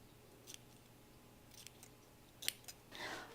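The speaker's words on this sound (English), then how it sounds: "I think I'm still gonna do a little bit of like thinning out with my thinning shears" Thinning shears snipping through hair during a home haircut: a few faint, quick metallic snips spaced out over a quiet background.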